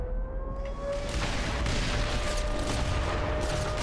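Gunfire aimed at the player in Black Mesa, the game's Surface War chapter: a dense, continuous burst of shots and booms filling the whole stretch at steady loudness, with a high tonal whine running through it.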